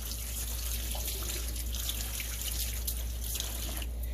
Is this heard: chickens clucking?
no